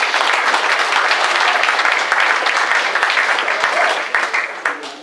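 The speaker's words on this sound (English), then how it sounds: "Round of applause for them" A room of supporters at a football club awards night gives a loud, sustained round of applause that thins out near the end.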